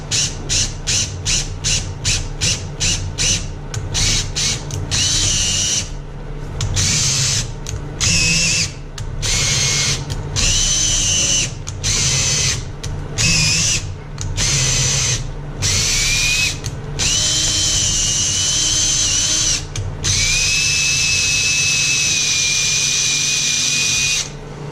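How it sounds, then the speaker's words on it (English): A power drill bores slowly with plenty of cutting oil during a Simplicity tractor snow blower modification, starting with quick on-off triggering and then long, loud whining runs broken by short pauses. "There's the drill. Lots of oil. Going slow."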